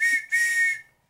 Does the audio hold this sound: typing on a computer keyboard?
no